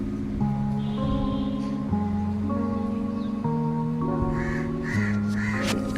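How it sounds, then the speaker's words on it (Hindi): Several crows caw repeatedly in the distance against a steady tonal background hum, their harsh calls spaced irregularly, during the Pitru Paksha shraddha rites. "अभी मैं सुनाऊंगी आपको, श्राद्ध के दिन है कौवे की आवाज"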